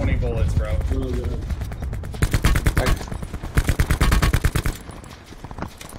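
Rapid gunfire in a video game, several fast automatic bursts of close, sharp shots, with a player talking over the action between volleys.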